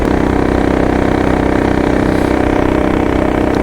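A car engine pulls hard under acceleration at around 3,700 rpm and 34 mph during a torque converter test, a loud, dense, steady drone heard from inside the vehicle with no talking.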